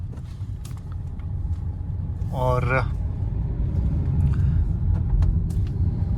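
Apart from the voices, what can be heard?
road traffic of tourist and local cars in a market area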